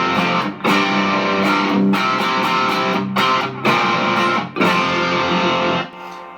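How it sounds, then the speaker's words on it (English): Electric guitar played through a Fulltone OCD overdrive pedal set to low gain into a Vox AC15 amp, crunchy distorted chords ringing in several loud sustained bursts separated by short stops. "full tone OCD, which is kind of like a all around good overdrive distortion"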